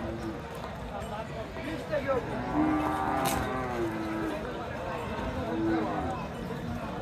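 Cows at a cattle market moo in long, drawn-out calls rising midway and again near the end, nearby over a busy background of people talking and shuffling hooves.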